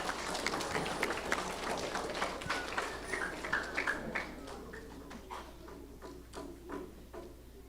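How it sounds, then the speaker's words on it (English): Applause for fourth grade award winners at a school ceremony, a crowd clapping steadily and then thinning out toward the end. "Let's give them a round of applause"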